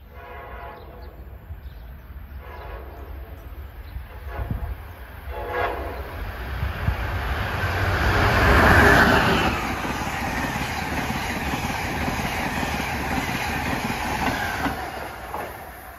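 Amtrak train 85 from Boston to Richmond, Virginia, passes close by with rumbling wheels and rhythmic clickety-clack, its horn sounding loudly midway as the noise swells, then holds a steady roll.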